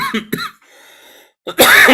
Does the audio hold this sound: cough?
yes